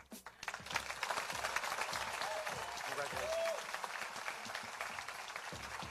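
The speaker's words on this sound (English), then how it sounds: "Let's give him one more round of applause," A crowd at a film festival awards ceremony applauds a winner, sustained clapping that rises and holds at a fairly distant, moderate level, with voices talking underneath.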